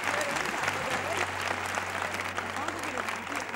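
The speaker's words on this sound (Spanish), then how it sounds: "campeones con un fuerte aplauso antes que nada." Studio audience applause for the champions on a Spanish TV game show, a steady, dense clapping that holds loud and even from start to finish with a low hum beneath.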